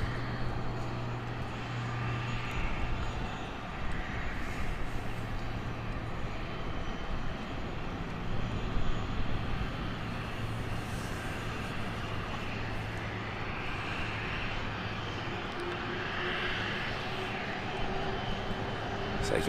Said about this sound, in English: Very nice aircraft just taxiing from the private terminal.